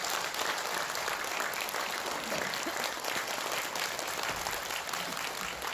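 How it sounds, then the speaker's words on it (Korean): An audience at a political party seminar in Korea gives sustained applause, a thick, continuous roar of many hands clapping at a moderate distance, steady from start to finish. "뜨거운 박수 부탁드리겠습니다."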